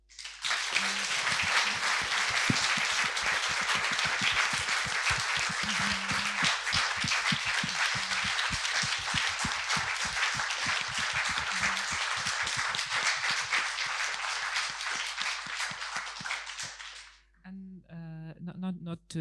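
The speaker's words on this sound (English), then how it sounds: "a warm applause for all of them" A large audience applauds the panelists at a forum on Ukrainian regional museums near the front line, with loud, dense, sustained clapping that continues steadily before stopping abruptly, followed by a short moment of speech.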